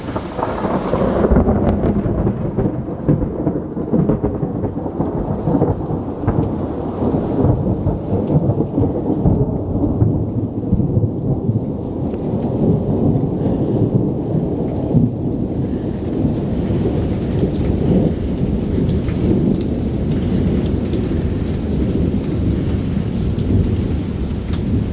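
A steady, heavy downpour falling on an umbrella, with deep rolling thunder rumbling throughout, loud and continuous, with a faint high tone hanging over the storm.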